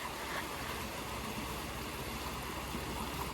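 Flowing stream water at Chimmini Dam, a steady broadband rushing and trickling wash, faint and continuous with no voices.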